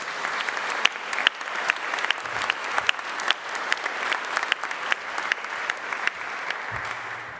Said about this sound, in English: join me in applause as we welcome our new faculty members